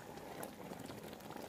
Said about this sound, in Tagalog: Yan, kumukulo na po.